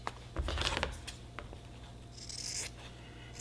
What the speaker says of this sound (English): See right here, you just want to cut it to where there's a little bit of material still there on the corner.